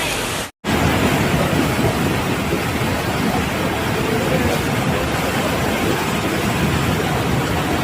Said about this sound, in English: Ichang city has also been experiencing intense rainfall.